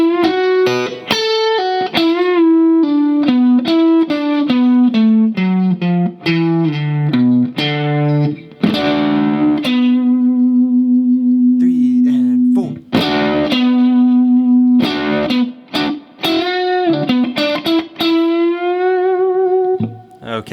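Electric guitar playing the fifth line of a song's second solo slowly, with distortion, single sustained notes and bends in an unhurried phrase, one long held note in the middle, loud and alone.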